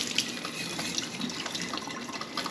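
Water splashes and trickles steadily as tiny alfalfa and broccoli seeds are rinsed inside a jar with a snug screen lid, a close, continuous liquid wash with small drips.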